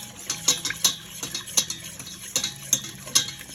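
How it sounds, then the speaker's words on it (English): Stirring milk into a pot of mac and cheese, with a close, steady run of utensil scrapes and light taps against the pot alongside soft, thick mixing sounds and no voices. "I'm just going to stir this and get it all mixed in"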